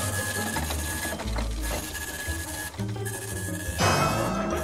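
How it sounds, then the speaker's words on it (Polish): Printer printing inside a home, a continuous loud mechanical whir with rhythmic ratcheting pulses and a shift in pitch near the end, heard alone without talk. "O nie, wciąż drukuję."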